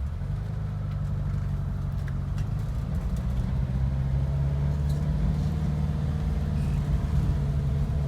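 A 1978 Volkswagen Bus pulling away in gear in a Texas neighborhood, its engine a steady low rumble that holds fairly loud and even throughout, heard up close without any talking.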